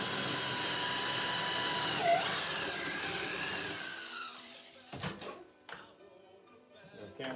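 A power drill with a 1332 bit bores into antler, giving a loud, steady grinding whir for about four seconds. It then cuts off, leaving a few scattered clicks and handling knocks.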